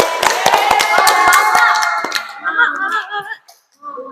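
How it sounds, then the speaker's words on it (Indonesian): A small group in a classroom claps in quick, sharp bursts for about two seconds, then the clapping stops and a voice murmurs faintly. "Tepuk tangan dulu."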